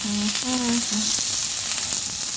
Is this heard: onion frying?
yes